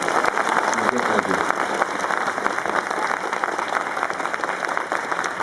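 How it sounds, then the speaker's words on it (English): A large audience applauds David Prowse at a Q&A event, with dense, steady clapping running throughout and a few voices mixed in beneath. "let's keep this big applause for David Prowse"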